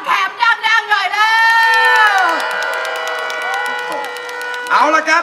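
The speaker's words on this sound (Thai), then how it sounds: "ขอเสียงพี่น้องชาวหนองแขมดังๆได้ไหมครับ" A crowd of Nong Khaem supporters at a Thai political rally cheers loudly and steadily for several seconds with whoops and shouts, bracketed by brief talk from an announcer at the start and end.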